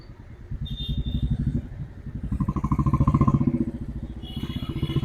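Motorcycle engine rumbling steadily nearby on a Bangalore shopping street in Jayanagar 4th Block, revving up and easing off as the bike moves in to park, with a continuous throbbing low pulse throughout.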